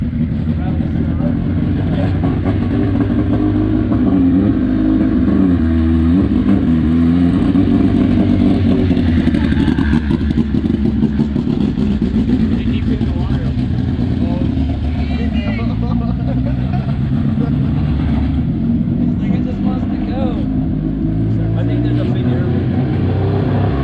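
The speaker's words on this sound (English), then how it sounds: "He's just splashing right through the puddle. Rally. All-wheel drive rally car." An all-wheel drive rally car roars past and splashes through a puddle, its engine a loud, sustained rumble with clattering and rushing water, while people talk excitedly over it.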